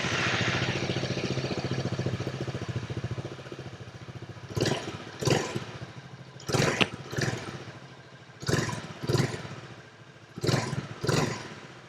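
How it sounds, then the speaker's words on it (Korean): A 2023 Honda X-ADV350 scooter with its stock muffler idles steadily and close for about four seconds, then gives six short, sharp throttle blips in pairs with idle between them. The exhaust stays fairly subdued. "순정 머플러의 배기 사운드 한번 들어보고요."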